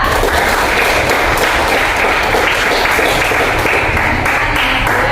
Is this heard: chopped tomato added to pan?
no